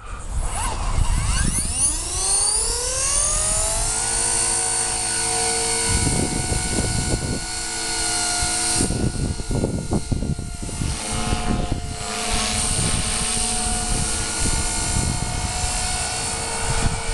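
A Walkera V450D01 RC helicopter in flight after ESC and throttle limit changes, its rotor whine rising steeply at spool-up and then holding a steady, loud buzzing drone throughout.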